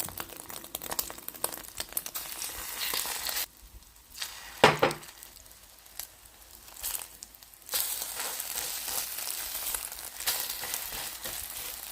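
Perilla leaves coated in egg wash sizzle and fry in a pan over medium heat, a steady close crackle with a brief quieter gap midway before the frying resumes at full strength.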